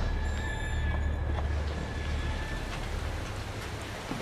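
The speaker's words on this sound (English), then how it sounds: "It's raining blood!" Rain of blood pours down in the horror video game Outlast 2, a soft, steady patter and hiss that holds at a low, even level for several seconds with no voices.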